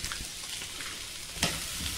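Garlic, onion and crushed bay leaves sautéing in a pan, with a continuous close sizzle and a brief louder burst of crackle as the pan is stirred.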